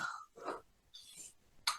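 A sneeze bursts out sharply near the end, following a few softer breathy, throaty sounds; fairly quiet and close, with no talking.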